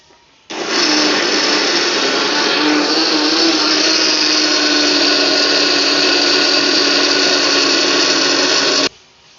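A countertop blender runs loudly and steadily for about eight seconds, mixing ingredients for the Acehnese dish sie reuboh, with a sudden start and a clean stop and no talking over it.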